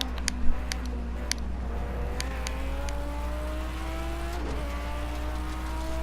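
Race cars in a racing video game, steady droning engine whine that rises slowly in pitch, with a few sharp clicks near the start and no voices.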